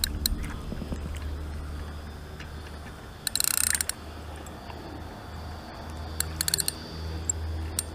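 Matrix Horizon X 4000 fishing reel, its clutch giving quick ratcheting clicks in short bursts over a low background rumble, close and fairly quiet.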